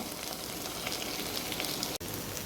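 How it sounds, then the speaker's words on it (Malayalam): Okra frying in a pan with potato, green peas and carrot: a dense, steady, close-up sizzle like heavy rain, broken by a brief drop-out near the end. "ഇവിടെ നമ്മുടെ വെണ്ടയ്ക്ക ഫ്രൈ ആയിക്കൊണ്ടിരിക്കുന്നു"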